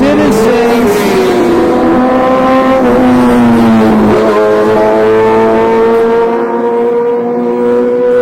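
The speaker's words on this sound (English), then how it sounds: "it's really loud with those motorcycles" Loud motorcycles roar past on a street, their engines revving and shifting pitch in a sustained, close drone that swells and fades over several seconds with no talking.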